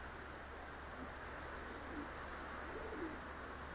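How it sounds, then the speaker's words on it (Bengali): Pigeons of a large puffed-nose breed coo softly at a loft, low steady calls recurring under a constant background hum, with no talking. "নাক ফুলা বুড়া জাতের কবুতর"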